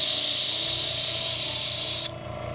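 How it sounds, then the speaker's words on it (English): Paint spraying from a spray gun, a loud continuous hiss that cuts off abruptly near the end and leaves a quieter background. "A little bit more spray right there, so we'll see how this goes."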